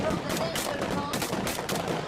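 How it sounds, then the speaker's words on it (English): Guns loaded with blanks firing during a bodyguard competition, a steady stream of rapid, fairly distant automatic shots with dense crackling bursts throughout. "How do they know who won since they're firing blanks?"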